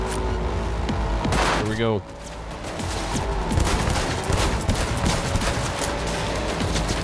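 Gunfire from a car window in Cyberpunk 2077, a sustained loud barrage of shots over engine rumble, with a short pause early on and a voice speaking briefly.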